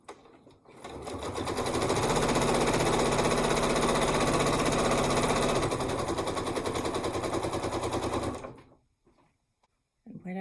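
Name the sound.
sewing machine stitching a barn quilt seam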